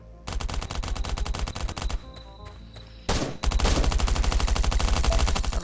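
Semi-automatic gunfire in Last Island of Survival: a rapid string of close, loud shots, a brief pause, then another sharp burst of evenly spaced rounds continuing to the end.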